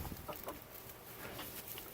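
Farm chickens cluck softly while pecking at feed in their pen, a few short, faint clucks scattered across a quiet background.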